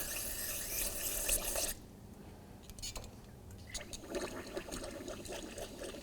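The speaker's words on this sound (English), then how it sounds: "I'm going to hose that boot down" Water from a hose sprays steadily onto a rubber brake caliper boot on a 2007-2013 Acura MDX, a close hissing splash that drops off briefly before resuming with dripping and spattering.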